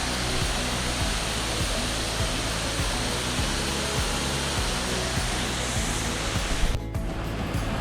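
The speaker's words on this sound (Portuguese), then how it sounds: "Olha que linda cachoeira, gente." Waterfall inside the Grotte del Caglieron cave in Fregona, Italy, a loud, constant broadband rush of falling water filling the space, steady throughout with no talk.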